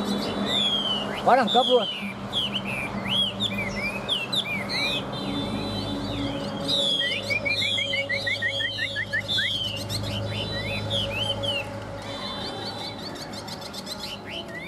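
A hwamei songbird sings in bright, varied phrases of whistles and rapid trills, close and clear, with someone talking intermittently beneath and a low background hum.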